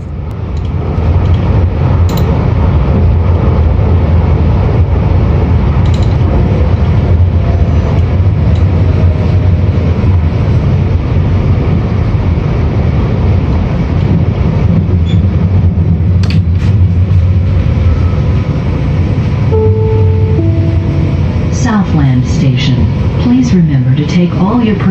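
A light rail train in Calgary rolls along with a steady low rumble and rattling, and a recorded announcement voice plays over the constant ride noise.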